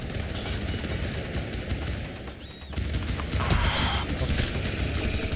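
Gunfire in the horror survival shooter GTFO, several quick shots and bursts mixed with game noise and clatter, fairly loud throughout.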